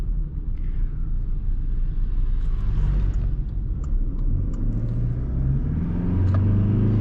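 A 2020 Toyota Hilux Invincible with a 2.4-litre 150 hp engine pulls ahead under acceleration, a steady loud low engine drone with rising tone and road rumble heard from inside the cab.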